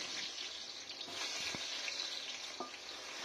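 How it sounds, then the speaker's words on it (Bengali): Onions frying in hot oil for biryani, a steady, fairly faint sizzle and crackle with an occasional clink of a utensil stirring the pan, no voices. "এখন পেঁয়াজের দুই মিনিটের মতন ভালো করে ভাজি লইম"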